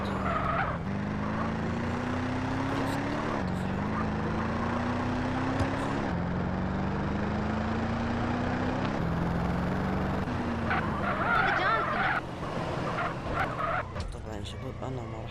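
A car in a Libyan modded version of GTA San Andreas drives hard, its engine whining upward through repeated gear shifts with bursts of tire skidding near the end, loud and steady throughout.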